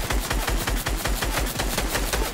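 Rapid automatic gunfire from Fortnite rattles out in an even, fast burst of loud, close shots that lasts the whole moment, with no voices over it.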